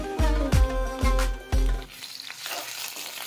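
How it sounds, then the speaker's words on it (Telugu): Ivy gourd frying with ginger garlic paste for fried rice: several sharp knocks of a utensil against the pan, then a soft steady sizzle with no talking. "ఇందులో అల్లం వెల్లుల్లి పేస్ట్ అయితే వేసేస్తాను."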